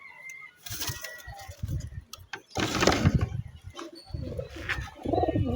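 Pigeons in a loft coo in soft, throaty bursts, with wing flutters and shuffling close by, the calls rising and falling over low background noise.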